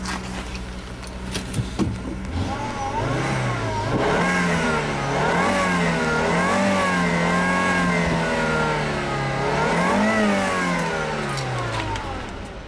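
A used 2006 Volvo 40 series with a turbo engine and a lit check engine light starts up, then revs. The engine swells and falls back twice over a steady idle, loud and close with no talk.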